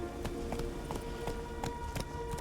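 The horse Roach gallops in The Witcher 3, giving steady rhythmic hoofbeats at a quick pace, close and clear over a low ambient music bed.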